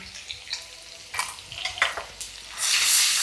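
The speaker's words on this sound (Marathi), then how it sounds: "तेलात आलं लसूणची पेस्ट आधी टाकून घेते" Ginger-garlic paste hits hot oil in a pan with soft crackles and pops, then erupts into a loud, steady sizzle over the final second.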